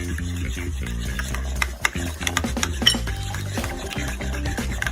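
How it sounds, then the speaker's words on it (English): A utensil stirs mayonnaise and lime juice together in a medium-sized bowl, producing a close series of scraping, clinking strokes with uneven rhythm and no talk. "Now I'm gonna put in my lime juice, start mixing that around."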